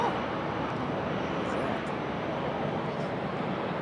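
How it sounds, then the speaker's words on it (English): A small executive jet departing Raleigh-Durham International Airport, heard as a broad, steady roaring rush of engine noise that holds level throughout, fairly loud and continuous from a distance. "Little exec jet departing there."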